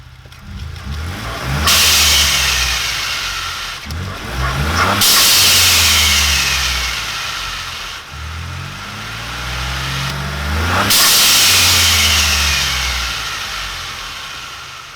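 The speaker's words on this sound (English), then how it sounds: "I'll let you hear what the blow-off valve sounds like" A Ford Bronco engine revs hard three times, each burst of throttle ending in a loud hissing whoosh from the turbo blow-off valve, with the motor settling back between pulls; close and loud, with no talking.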